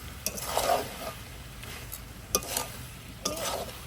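Chicken pieces sautéing in a pan for a chicken kosha curry, a steady close sizzle with a few sharp scraping stirs and spoon knocks against the pan.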